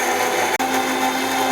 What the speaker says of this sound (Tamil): இந்த ஜாரை எடுத்து இந்த மிக்ஸியில் வச்சு நீ அரைப்போம்